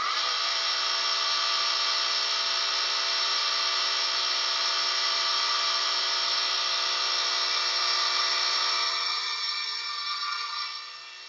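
A lathe spins an ebony cigar pen blank under burnishing, giving a continuous, steady high whine that holds evenly before easing down slightly at the end.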